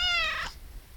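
A cat gives a single short, high meow that falls and fades in the first half second, then near silence remains.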